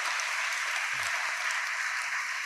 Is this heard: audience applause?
yes